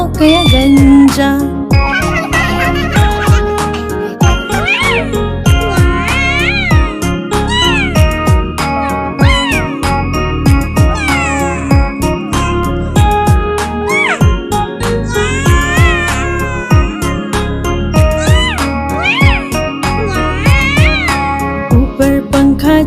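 A cat meows repeatedly in a bright, sing-song cartoon style, the meows layered over a cheerful children's rhyme melody with jingling tones and steady music throughout.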